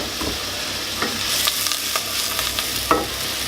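Sweet potato and white bean chilli stirred in a pan over low heat, with a steady soft sizzle and scraping stir strokes repeating every second or so, close up and with no talking.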